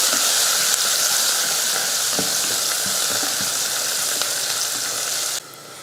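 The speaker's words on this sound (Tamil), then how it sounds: "நூறு கிராம் அளவுக்கு சின்ன வெங்காயம் ஒரு நாலு போல் பூண்டு ஒரு பச்சை மிளகாய் இப்போ வதக்கிடலாம்" Small shallots, garlic and green chili sizzle and fry in hot oil with curry leaves, a loud, steady close-up hiss with faint stirring scrapes that cuts off abruptly near the end.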